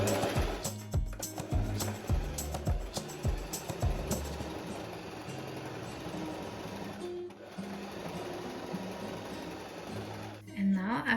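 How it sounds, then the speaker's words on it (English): A sewing machine stitches along folded fabric dress straps, running in close rapid mechanical bursts with short pauses, a brief stop near the end, and a voice speaking over parts of it. "we're now gonna sew along 1 centimeter from the folded edge"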